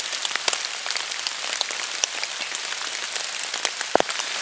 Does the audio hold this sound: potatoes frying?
no